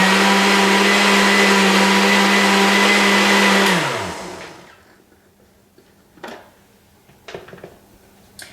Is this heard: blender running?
yes